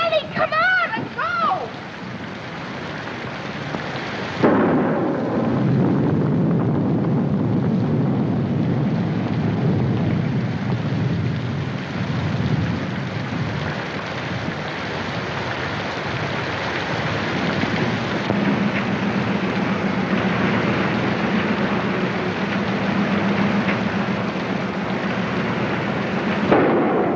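A heavy thunderstorm in a 1947 film noir: steady rain pours continuously while thunder rumbles low and long, after a brief sharp burst at the start; the storm stays dense and loud throughout.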